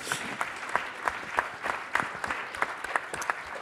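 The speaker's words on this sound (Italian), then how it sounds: "Un applauso." Audience applause at a conference on the global water crisis: a room full of people clapping steadily and briskly at moderate loudness for a few seconds, with no voices over it.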